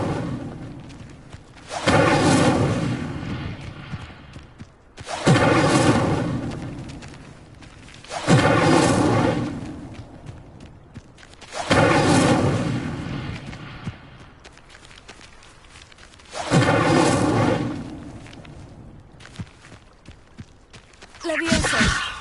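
The Incendio fire spell is cast repeatedly in the video game Hogwarts Legacy: five loud, whooshing, roaring bursts of flame, each lasting a couple of seconds, fall at a steady rhythm with quieter stretches between.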